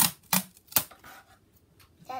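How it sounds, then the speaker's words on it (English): Adhesive tape is pulled off a roll and pressed onto cardboard during a DIY candy dispenser build, giving sharp ripping bursts followed by quieter crackling, up close in a quiet room. "I'm gonna try to tape it somehow."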